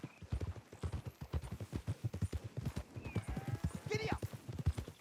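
Horse galloping in Red Dead Redemption 2, with a steady run of close hoofbeats for the whole stretch, a brief whinny near the end and a voice talking over the hooves.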